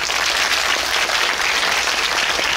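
A crowd applauds steadily, a dense, even patter of many hands clapping for the whole stretch with no voices over it.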